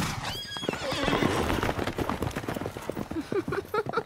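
Horses in an anime forest scene whinny repeatedly while hooves clip-clop in quick, uneven beats, all close and fairly loud.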